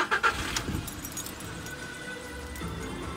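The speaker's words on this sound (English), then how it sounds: "There we go, engine running smoothly." A car engine, a VW Polo fresh from a coil pack replacement, turns over and settles into a steady, even idle close by, with a faint clink of keys at the start and no talking.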